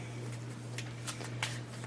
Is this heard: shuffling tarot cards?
yes